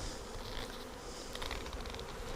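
A honey bee swarm buzzes steadily, a dense continuous hum of many wings close by, with brief louder passes of individual bees.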